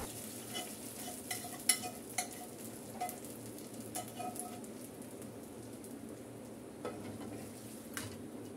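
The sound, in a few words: fried onion tempering poured into khichuri, sizzling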